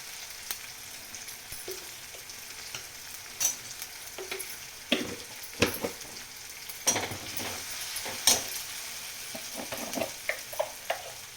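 Homemade spice masala and turmeric roasting in a pan with softened tomatoes, heard as a soft steady sizzle broken by scraping stirs and light clinks of a spoon, close and moderately quiet.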